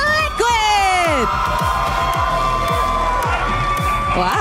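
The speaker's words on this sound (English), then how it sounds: "Wow, the crowd goes wild." A large crowd at an esports tournament roars, whoops and cheers continuously and loudly, with shouted voices rising over the din.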